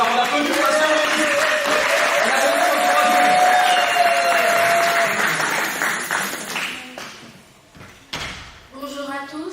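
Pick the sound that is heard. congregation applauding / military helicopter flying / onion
congregation applauding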